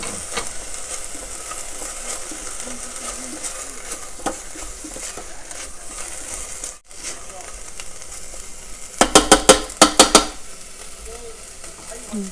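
Ginger frying in an Instant Pot, a soft steady sizzle underneath with scattered scrapes and clinks of stirring, then a brisk flurry of sharp metallic clatters near the end, close by, with faint talk in places.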